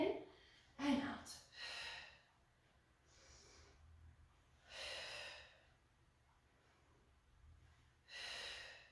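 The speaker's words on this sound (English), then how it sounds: "Let's breathe in and out." A person breathes in and out during a Pilates exercise, with several audible, airy inhales and exhales spaced a few seconds apart, close and fairly soft.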